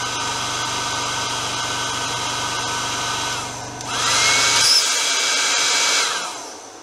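A compressor and fans run on a power inverter, making a steady loud hum with a low drone. About two-thirds of the way through the pitch rises and the low part cuts out, then the motor noise fades.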